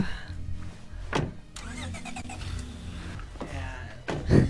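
A car engine starts inside the video game State of Decay 2, a quick crank catching into a steady mid-pitched idle that runs for several seconds with brief game sounds layered over it.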